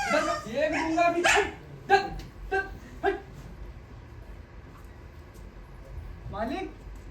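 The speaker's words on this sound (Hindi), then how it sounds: "अपना कुत्ता भौंक रहा है" A dog barks in short bursts near the start and again toward the end, with people talking over and between the barks in a noisy indoor setting.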